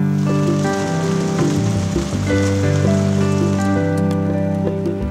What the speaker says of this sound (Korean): 여름 내 메말랐던 산골 마을에 단비가 내립니다.